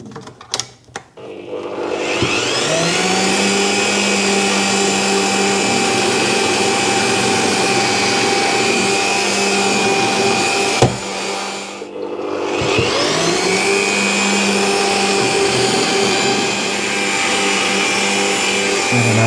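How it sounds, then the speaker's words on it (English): Power drill driving into a Bell Bullitt helmet to make screw holes for a GoPro Hero9 mount: two long, steady, loud whirring runs of about nine and seven seconds, split by a short pause with a sharp click. "I'm going to drill that."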